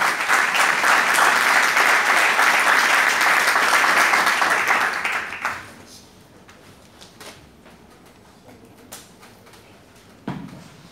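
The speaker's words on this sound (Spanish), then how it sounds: "un aplauso para todos ellos" Audience applause at a book launch for a journal issue in Spanish, a loud sustained crowd clapping for several seconds that fades out abruptly, leaving quiet room noise with a few scattered sounds.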